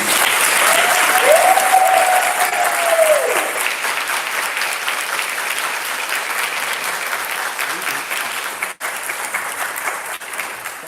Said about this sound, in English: Seeing none, you can clap your hands.